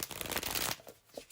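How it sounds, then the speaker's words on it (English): Quality tarot cards riffled in a bridge shuffle, a dense crisp flutter of cardstock for about three-quarters of a second, then a couple of soft taps as the deck settles. "Let's shuffle the cards."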